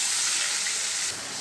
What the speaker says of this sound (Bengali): এইভাবে আমি সবগুলো মাছ ভেজে নেব।